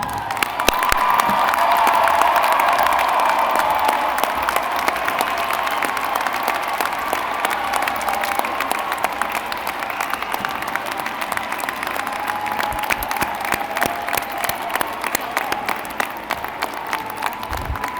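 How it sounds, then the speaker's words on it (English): A large midyear commencement audience applauds graduates' families and supporters, a sustained roar of clapping with scattered cheers and whoops that swells early and then holds steady, dense and reverberant, for the full length. "we'll join you in applauding them"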